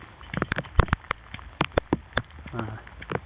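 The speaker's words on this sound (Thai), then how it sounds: "มาดูตอนฝนยังตกเลยนะครับ" Rain falls over rice paddy fields, heard as irregular sharp, close patters of drops striking a nearby surface against a soft wash of rainfall, with someone speaking briefly near the end.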